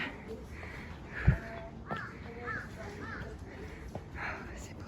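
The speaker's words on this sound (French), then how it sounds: "il y a des corbeaux partout" Several crows caw in short bursts across a hilltop shrine in Japan, some nearer and some farther, mixed with faint background chatter and a brief knock.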